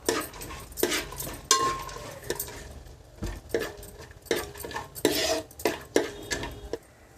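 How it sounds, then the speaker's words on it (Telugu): Spices and cashews fry in a pot while chicken biryani is prepared, heard mostly as repeated close clanks and scrapes of a utensil stirring against the metal pot, with only faint sizzling. "ఇప్పుడు వీటిని కాసేపు వేగనివ్వాలి."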